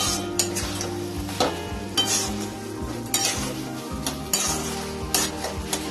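Banana flower curry is stirred in a pan with a metal spoon, producing repeated scraping clinks over a low sizzle, with soft music in the background.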